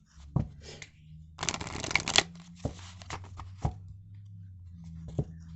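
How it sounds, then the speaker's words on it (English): A deck of oracle cards is shuffled by hand, several bursts of riffling and sliding cards with soft taps and knocks between them, close and clear, alone without speech. "Already shuffled these, but I'm feeling compelled to do it again."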